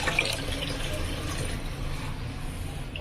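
Water pours into a pan in a steady, even rush, close and continuous for the whole stretch.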